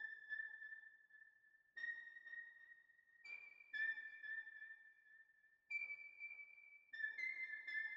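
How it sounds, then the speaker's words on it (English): A bell synth plays a counter melody in a dark beat, sustained chime tones that step between pitches in a slow, sparse pattern, quiet and alone with no voices. "So I use, like, this bell sound that sounds like this."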